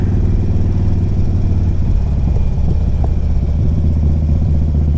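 A Harley-Davidson Street Glide CVO motorcycle engine runs on a test ride with a deep, steady rumble and slight clattering variations. The sound is loud and close, with no voices.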